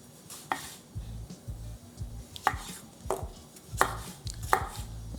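Fresh tomatoes are chopped with a knife on a cutting board for a stew, giving a series of sharp, close knocks at an uneven, unhurried pace with no talking.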